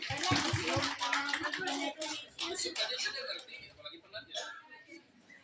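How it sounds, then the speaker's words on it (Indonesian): A room full of people at a teachers' curriculum workshop in an elementary school claps together, a dense burst of applause mixed with chatter and a few children's voices, fading into scattered talk. "tepuk tangan untuk kita semua dulu"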